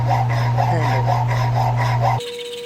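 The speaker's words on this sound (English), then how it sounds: "My snap-on hacksaw, only the best." Snap-on hacksaw cutting metal: rapid rasping back-and-forth strokes, close and loud, over a steady low hum, ending abruptly after about two seconds.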